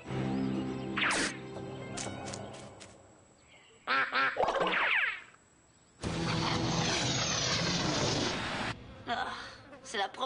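A duck quacks in loud repeated bursts outdoors on an island, with short calls separated by pauses and a long stretch of dense calling; people's voices are mixed in.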